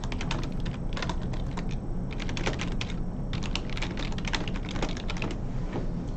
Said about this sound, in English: Lots of typing going on here.